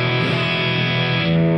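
A Fender Eric Clapton signature electric guitar played through overdrive holds a single sustained, distorted chord that rings bright and loud. There are no other sounds and no voices.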